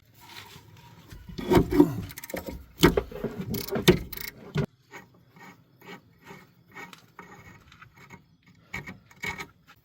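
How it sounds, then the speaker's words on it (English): A ratchet wrench breaks loose a rear brake caliper bolt on a 2006–2010 Volkswagen Jetta, giving close, rapid clicking bursts with metallic rubbing and clanks, then quieter intermittent ticks. "now we'll go down to the bottom one and break that one loose"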